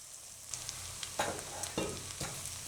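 Onion and garlic frying in a pan for a Gujarati mixed bhaji ghuto: a faint, steady low sizzle broken by a few soft scrapes of stirring, with no talking.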